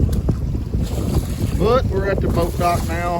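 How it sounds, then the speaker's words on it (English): Strong, gusty wind roars steadily into the microphone at a boat dock on choppy water with whitecaps, while a person speaks over it. "the wind has picked up like crazy"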